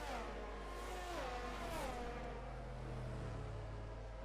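A safety car circling the Monza track in a sim racing game, its engine note rising and falling through gear changes as it drives past, fairly quiet and without talk.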